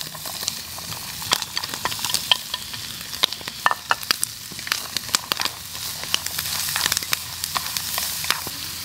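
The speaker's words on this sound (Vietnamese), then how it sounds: "Rồi bỏ mớ cà rốt với lại đậu que vô chiên luôn." Carrots and green beans fry with garlic in a hot pan, a steady close sizzle broken by sharp scraping and stirring clatters from a utensil throughout, with no talking.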